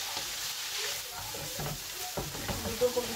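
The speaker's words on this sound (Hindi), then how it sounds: "अभी हम नूडल को अच्छी तरह से मिक्स करेंगे।" Boiled noodles are tossed and stirred in a hot pan for chicken noodle stir fry, giving soft sizzling with light scraping and clattering strokes, quiet and close.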